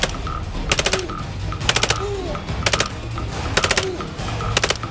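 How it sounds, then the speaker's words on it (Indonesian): A toy M16 gun fires its electronic shooting effect: short bursts of four or five rapid clicking shots, repeating about once a second, close and fairly loud over faint background noise. "yang ini tembakan M16"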